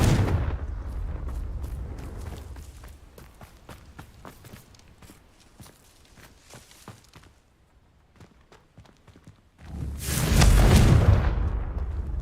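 A Confringo fire spell explodes in the Hogwarts Legacy video game, a sudden loud, deep blast that rumbles for a couple of seconds after a stretch of quieter footsteps and softer impacts.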